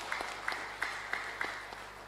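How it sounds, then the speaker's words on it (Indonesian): At a public discussion in Majalengka, a few audience members clap, a sparse and irregular patter of individual claps over room hum, fairly faint and spaced out. "Tepuk tangan buat Kabupaten Majalengka."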